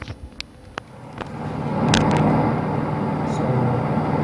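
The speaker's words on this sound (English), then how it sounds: "That's the sound of Microsoft Flight Simulator." Microsoft Flight Simulator audio played through HP Reverb G2 headset speakers set near a microphone gives a steady low engine drone that swells and holds, after a few soft clicks at the start.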